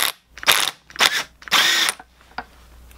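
An impact gun fitted with a 30 mm deep socket works a transmission nut during a BMW gearbox swap into a Miata, giving three loud, close rattling bursts, the last the longest, followed by a brief click.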